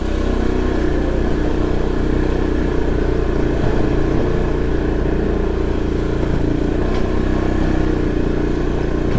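A Honda Beat scooter ridden off-road on a slippery dirt track near Angono, its engine droning loud and steady from close by, with faint rattles and wind over the constant hum.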